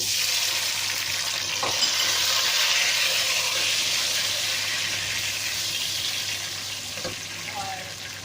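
Chopped tomatoes go into golden-brown onions frying in a pot for aloo gosht, giving a steady loud sizzle and crackle throughout with faint stirring clinks.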